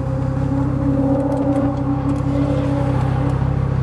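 A 2.2-liter five-cylinder Audi urS4 engine droning steadily on a race track, a loud sustained hum with little change in pitch, heard from close by with no talk.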